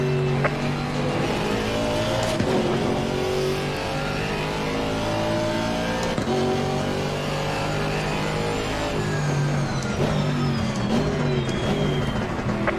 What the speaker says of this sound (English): Faster car coming up behind you.